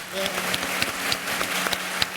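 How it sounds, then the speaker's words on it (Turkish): A studio audience on a Turkish comedy talk show applauds steadily, with a crowd's rapid clapping held at an even level and a few sharper individual claps standing out near the front. "Çok alkışlar Dodon'a gelsin."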